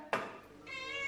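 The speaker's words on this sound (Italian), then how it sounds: "notare la calma di Gatta Stellina che pazientemente e saggiamente aspetta che io le metta giù la ciotola" A cat waiting patiently for its food bowl gives one short, close meow that rises out of quiet room tone and trails into a faint tonal hum.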